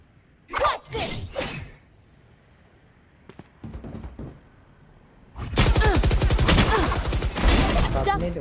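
A swarm grenade goes off in a video game. A brief whoosh and a few scattered clicks come first, then a loud, dense run of rapid crackling pops bursts out for several seconds.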